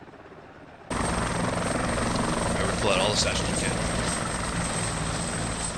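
Helicopter rotor in a military video game, a loud continuous engine and blade roar running throughout after a quiet start, with people talking over it.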